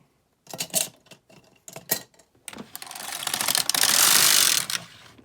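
A Brother mid-gauge knitting machine (KX 350 or LK 150) casts on stitches: a few sharp mechanical clicks, then the carriage slides across the needle bed in a rising, rattling whir, close and alone.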